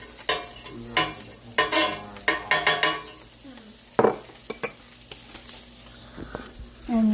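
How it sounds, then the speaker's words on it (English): Butter sizzles in a hot pan for chicken marsala, left in with the brown dregs after the mushrooms come out, with scattered clinks and scrapes of a utensil stirring against the pan throughout. "I'm going to add another tablespoon of butter into the pan."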